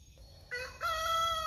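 A rooster crows loudly nearby in a drawn-out, rising call, with chickens in the background of an orchard.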